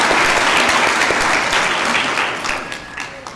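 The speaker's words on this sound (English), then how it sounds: "Please, a round of applause for the associate individuals that" Loud, close applause from a graduation ceremony audience, thick and continuous at first, then thinning and tapering off toward the end.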